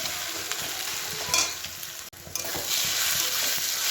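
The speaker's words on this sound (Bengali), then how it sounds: "দুটো মাংসরই পেঁয়াজ একসঙ্গে ভাজা করছি" Onions for two meat dishes frying together in a pan while being stirred, a constant close sizzle broken by scraping spatula strokes and a brief pause midway.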